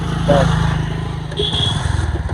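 Motorcycle taxi engine idling and puttering nearby with a steady rhythmic throb, briefly revving, and a faint voice in the background.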